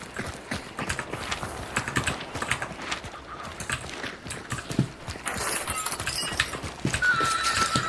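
A horse in the Hunt Showdown game, hooves clip-clopping in an uneven rhythm with whinnying and neighing, moderately loud over quiet ambient background and no talking.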